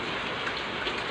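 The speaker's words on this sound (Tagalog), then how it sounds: "Ayan, umuulan siya" Steady rain pours outside a small home, a dense, even hiss of drops on a roof and surfaces that holds constant throughout, with no voices over it.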